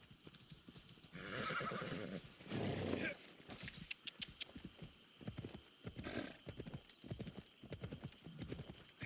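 Horse hooves clip-clop steadily while riding in Assassin's Creed Odyssey, with a loud neigh and whinny early on and voices talking over the hoofbeats.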